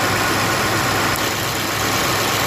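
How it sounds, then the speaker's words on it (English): A 2019 Ford F150 with the 5.0 engine idles on low-pressure CNG injectors, a steady loud mechanical hum with fine ticking texture, unchanging and close throughout. "listen to the sound the injectors when the low pressure injectors come on"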